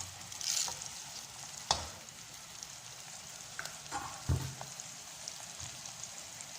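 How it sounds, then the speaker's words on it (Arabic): Mixed spices for Adeni rice sizzle steadily in a frying pan, with a few sharp scraping knocks as they are stirred, close and moderately loud with no talking. "ونحركها عشان يعني تطلع نكهة"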